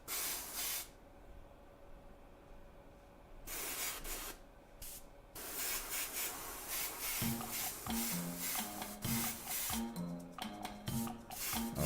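A Gaahleri Mobius airbrush spraying paint at a hobby bench, with bursts of close, steady hiss separated by short pauses and, near the end, a sputtering, popping spray.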